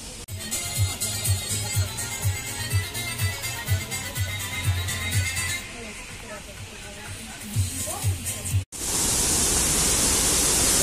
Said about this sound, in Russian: Ух ты, какой тут поток! Бурлящий.